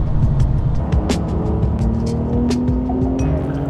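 A Porsche 992 Sport Classic, a detuned turbo with two-wheel drive, drives on steadily with a continuous engine and road roar, loud and close throughout, with brief sharp ticks over the drone.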